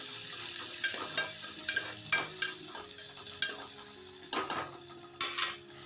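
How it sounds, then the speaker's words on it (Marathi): Chopped tomato sautéing in a pan, a soft steady sizzle with repeated scraping stirs of a spoon at an even rhythm, close and fairly quiet. "आता आपला टोमॅटो एकदम मऊ सॉफ्ट होईपर्यंत परतून घेऊया."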